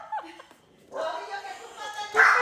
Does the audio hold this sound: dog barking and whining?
yes